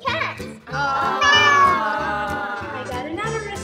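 Meowing cat voices, a series of drawn-out, pitched calls heard close and fairly loud, mixed with excited human vocal sounds that may be a person imitating the meows.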